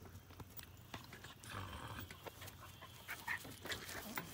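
A dog pants softly in quick, faint breaths, heard close but quiet over low outdoor background noise.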